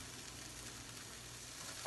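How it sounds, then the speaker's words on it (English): Onions and radishes sautéing in a pan give a steady, faint sizzle with soft stirring noise, continuous and unaccompanied throughout. "saute the onions for about 3 minutes"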